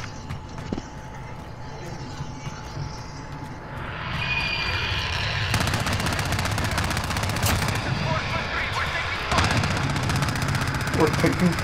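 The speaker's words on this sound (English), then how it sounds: "We're taking fire." Rapid bursts of incoming automatic gunfire in a shooter video game crackle loudly and densely from about four seconds on, thickening after five and again near nine seconds, layered over rumbling engine-like noise, with voices speaking underneath.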